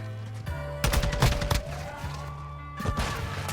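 Gunfire in a shooter video game on a large map, bursts of rapid shots and impacts over a droning game soundscape, dense and loud in the middle and again near the end.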